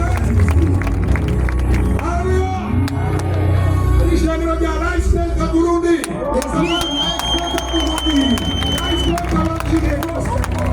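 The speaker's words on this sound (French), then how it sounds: "Beaucoup d'acclamations pour Dieu." Congregation at a Kanguka gathering in Bujumbura cheering and applauding for God, a continuous roar of clapping and shouting with singing voices and a high sustained tone rising over the crowd noise.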